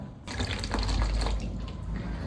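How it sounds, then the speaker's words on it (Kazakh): Water is poured over the top of something during a hands-on science activity at a kindergarten, a steady, close splashing pour that runs for about two seconds with no voices. "Енді үстіне су құямыз, Кәусар."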